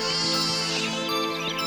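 Goats bleat in an animated children's fairy tale about a mother goat and her seven kids, a loud, continuous wavering cry with overlapping voices carried over a backing of music.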